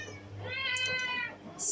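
Pet cat meowing once at feeding time, a single clear close drawn-out meow in a quiet room.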